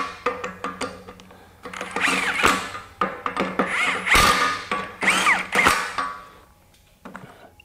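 A RIDGID R86211 high-torque impact wrench works on 7/8 inch bolts, giving loud, close bursts of rattling, hammering power-tool noise over several seconds before tapering off.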